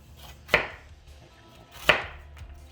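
A knife cuts through a head of cauliflower on a board with two firm, close chops about a second and a half apart, and no voices.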